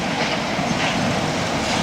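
A train rolls along a nearby track by a scrapyard, a steady, loud broadband rumble with faint clickety-clack from the wheels running throughout, no voices.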